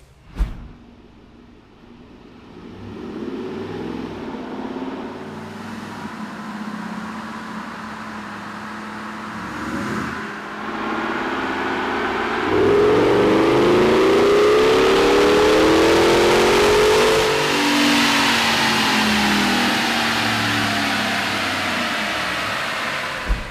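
A Roush supercharged 2012 Gen 1 Ford Raptor runs on a chassis dyno in a shop, its engine building from a low idle into loud revving, with a rising supercharger whine that peaks and then eases off near the end.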